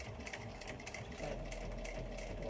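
An industrial sewing machine runs steadily while stitching a mini Dayna Pack bag, giving off a continuous whirring, rattling hum that grows a little louder and denser partway through. No voices are present.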